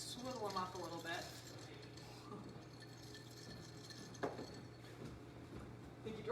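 A phin coffee filter cup is swirled by hand without a spoon, giving light metallic clinks and scrapes against a steady low room hum, with faint voices murmuring in the background.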